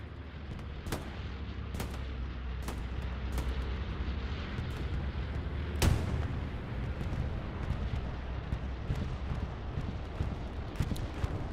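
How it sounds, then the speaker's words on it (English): A bombing run in the World War II shooter Hell Let Loose at Carentan train station: a steady rumbling background punctuated by scattered sharp blasts and cracks, with one heavier explosion near the middle, all somewhat distant. "Bombing run on its way."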